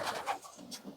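A racing pigeon in a loft gives a soft, brief coo, low and muffled, with faint rustling and room noise around it and no speech.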